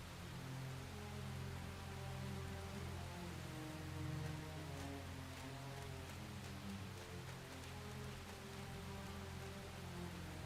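Rain in the video game Xenoblade Chronicles X falls as a faint, steady hiss of drops under a low, constant ambient hum, with no voices.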